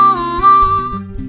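Blues harmonica phrase played at full speed over a backing track: a sustained reedy tone that bends and shifts pitch, with a pulsing rhythm section beneath, loud and continuous without speech.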